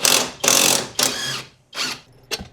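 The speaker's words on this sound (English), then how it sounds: "Right now, let's just unbolt that lower control arm." Bolts on the lower control arm of a BMW E91 wagon being loosened with a power tool: four or five loud, close, buzzing bursts of varying length with brief gaps between them.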